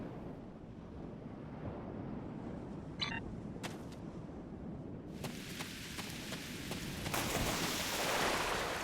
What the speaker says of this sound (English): Wow, rain on Ryza.